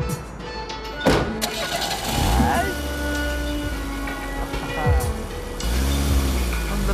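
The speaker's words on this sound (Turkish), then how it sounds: "Çalıştı araba Rüstem." A car engine cranks and catches, then settles into a running idle with a few revs, close by and fairly loud, while people talk over it.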